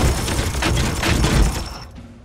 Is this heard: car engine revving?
no